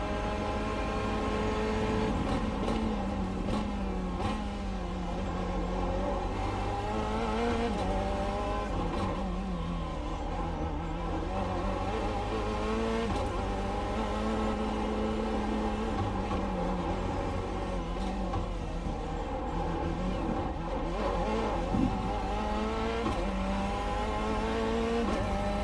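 A Corvette C8.R GTE race car in iRacing keeps up a steady engine drone that rises and falls with throttle and downshifts, with occasional tire squeal, loud and continuous with no talk.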